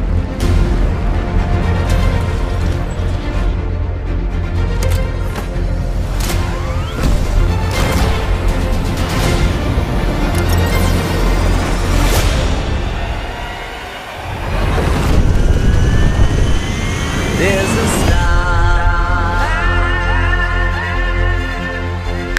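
Spacecraft liftoff from the Lightyear movie trailer, a loud sustained rocket roar and rumble with whooshing sweeps and swelling music, dipping briefly before surging again, no voices over it.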